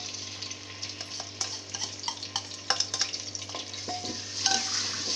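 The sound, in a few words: ginger, garlic and green chilies frying in ghee in a pot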